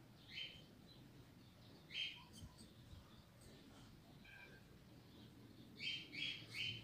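Several short, bright chirps from a small songbird, a coleiro, come in bursts over a low background hum, with a cluster of quick calls near the end.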